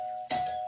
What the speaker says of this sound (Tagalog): biglang magring ang doorbell